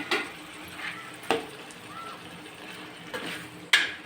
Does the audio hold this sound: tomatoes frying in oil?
yes